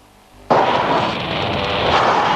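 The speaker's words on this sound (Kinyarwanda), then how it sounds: "dore igisasu baharekuriye" A bomb goes off with a sudden loud blast that swells into a sustained, roaring rumble lasting a couple of seconds.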